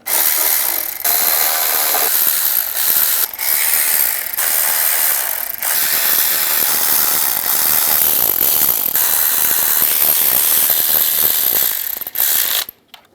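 Ratchet snugging down valve cover bolts on a 2007-18 Jeep Wrangler, a steady loud stream of rapid clicking that runs for about twelve seconds before cutting off abruptly.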